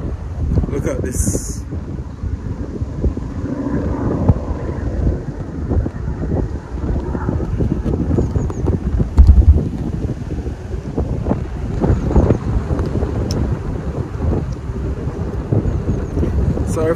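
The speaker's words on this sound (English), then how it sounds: "Cannot really avoid this wind, it's so windy right now." Strong wind buffets the microphone throughout, a constant low roar with gusty peaks, while a voice talks now and then underneath.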